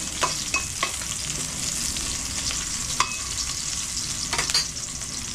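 Mussels sautéed for ginisang tahong hiss in a pan as a steady broadband sizzle. Scattered clicks of stirring and scraping run through it, and there is no talk.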